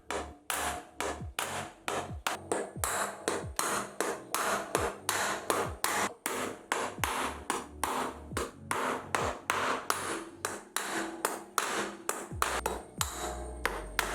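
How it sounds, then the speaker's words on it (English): Steady, rapid hammer blows driving screws into a wooden folding table, one after another in an even rhythm, close and loud throughout with no voices. "Use an hammer to fix the screws through the holes in the body."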